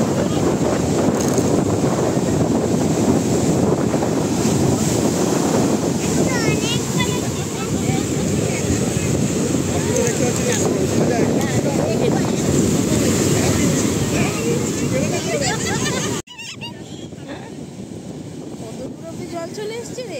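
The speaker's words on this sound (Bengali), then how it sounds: "বিরাট ঢেউ আসছে, বড় বড় একদম।" Big sea waves breaking on the beach at Digha, a loud continuous roar of surf with heavy wind buffeting, dropping abruptly near the end.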